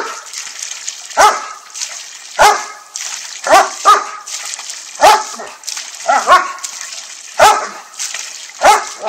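A dog barks repeatedly at running water outdoors, about eight loud, close, evenly spaced barks with the steady splash of flowing water underneath.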